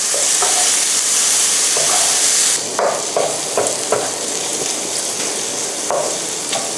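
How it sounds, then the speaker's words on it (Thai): Bacon sizzles loudly in its own rendered fat in a pan for carbonara, a bright steady hiss that eases after a few seconds as the strips are stirred and scraped, with short clatters. "น้ำมันในตัวเบคอนนะครับ จะทำให้ตัวมันเองสุกเองนะครับไม่ต้องใส่น้ำมันอะไรเพิ่ม"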